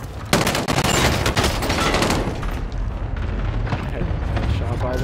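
Rapid P90 submachine-gun fire rattles through a first-person shooter game in dense, sustained bursts, loud and close, with shots overlapping into a continuous clatter.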